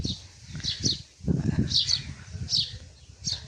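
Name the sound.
birds chirping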